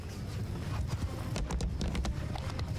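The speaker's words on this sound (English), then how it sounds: "This is how you besiege a city. You walk up in a horse." Horse hooves walking during a city siege in the video game Mount & Blade II Bannerlord, a steady clip-clop of hoofbeats over a constant low rumble of battle ambience, with no talk.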